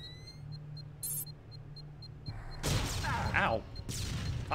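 Gunfire in the video game TimeSplitters: Future Perfect, a burst of loud shots and impacts in the second half following quieter game ambience with periodic beeps.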